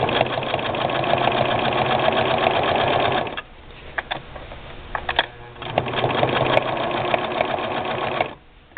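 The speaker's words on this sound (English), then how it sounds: "I'm just going to do some stitching on this hanky" A Singer 6212C sewing machine stitches a hanky, running in a steady loud whir for about three seconds, pausing with faint clicks and handling noises, then resuming the continuous close-up stitching before stopping.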